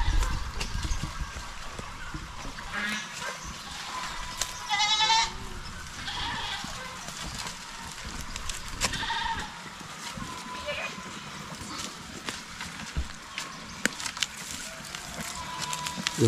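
Goats on a rural farm bleat in short, repeated cries around the middle of the stretch, set against steady outdoor background noise.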